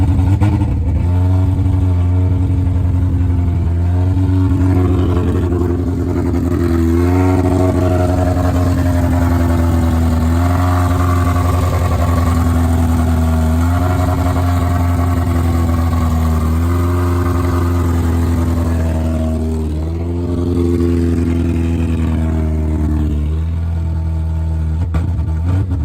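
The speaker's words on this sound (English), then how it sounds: "I'm gonna attempt to get the car running" A freshly rebuilt car engine runs rough with a steady, loud uneven idle, its deep throb wavering and dipping briefly now and then, heard alone and close for the whole stretch.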